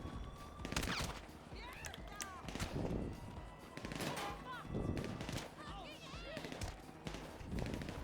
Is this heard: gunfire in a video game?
yes